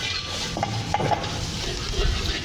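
Green masala with garam masala and coriander powder being stirred in a pan, a continuous sizzle with scraping spoon strokes against the metal, close and fairly loud.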